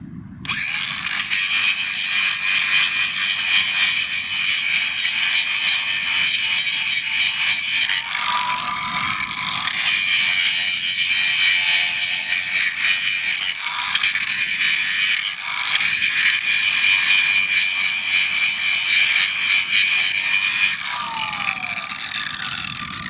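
Abrasive grinder wheel scrubbing the surface of a steel rail ahead of a Cadweld rail weld, a loud, steady high-pitched grinding with brief dips where the wheel lifts off, running nearly continuously.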